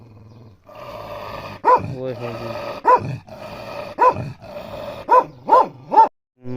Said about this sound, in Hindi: बड़ा खतरनाक कुत्ता